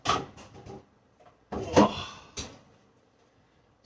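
An oven door in a home kitchen thumps and clicks shut after a casserole dish goes in, a couple of short, close knocks following quiet rustling.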